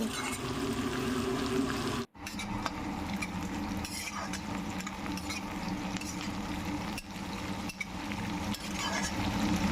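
Chopped onion frying lightly in a pan for potato and pea pulao, a steady close sizzle with soft stirring scrapes running throughout, one brief gap near the start.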